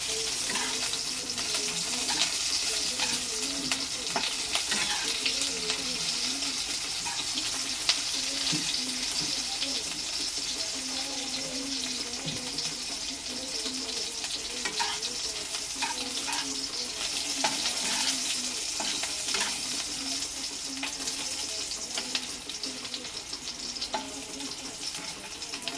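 Bitter gourd frying in a pan gives a steady, dense sizzle that runs unbroken throughout, with occasional stirring scrapes and crackles mixed in.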